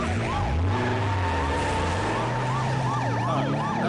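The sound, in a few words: police car siren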